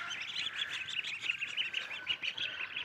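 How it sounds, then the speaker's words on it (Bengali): A group of ducklings, including Beijing ducks, eager for food, cheep in rapid continuous high-pitched peeps, a busy overlapping chorus at moderate distance. "এই যে আমাদের হাঁসের বাচ্চাগুলো খাওয়ার জন্য একদম পাগল হয়ে গেছে"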